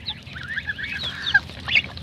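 A white goose honks repeatedly close by, a string of nasal, brassy calls in irregular bursts with no talking.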